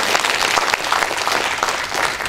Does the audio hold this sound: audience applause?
yes